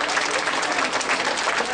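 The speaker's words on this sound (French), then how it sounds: "maintenant, on peut les applaudir" Dense crowd applause at an outdoor event, a steady, loud wash of many hands clapping together.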